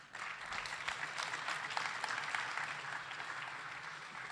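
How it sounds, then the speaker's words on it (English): A conference audience applauds after a talk, producing a faint, steady wash of many hands heard from a distance that holds evenly throughout. "Ooh, big applause for Porter."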